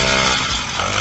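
An MBK 51 moped engine runs hard during a wheelie, giving a loud, dense, steady buzz that stays close and constant for the whole second.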